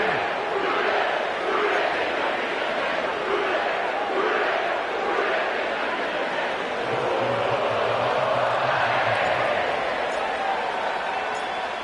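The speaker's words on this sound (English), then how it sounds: "sellout crowd has arrived at Paycor Stadium in Cincinnati." Stadium crowd noise in the American football video game Madden NFL at Paycor Stadium in Cincinnati, a steady, loud wash of sellout crowd roar and chatter throughout with no clear pauses.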